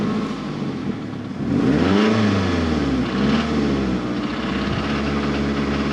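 A drive-by-wire car with a fault that makes it run rough sits running, its engine a steady loud hum that swells at about two seconds before settling into a continuous idle.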